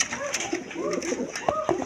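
Pigeons kept for sale, including a pale yellowish bird, coo in short low rolling phrases close up, with a voice faintly present beneath.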